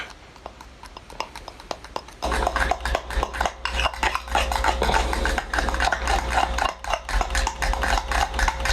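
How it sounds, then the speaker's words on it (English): A honey mustard and melted butter mixture is stirred briskly in a bowl for ribs, the utensil clinking and scraping against the sides in a fast, steady rhythm, loud and close. "Stir that around."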